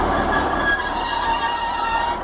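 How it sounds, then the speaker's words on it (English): A Great Western Railway train runs through Tiverton Parkway station with steady, loud wheel squeal and rail noise and high-pitched screeching tones, with no voices. "So it's a full coach train."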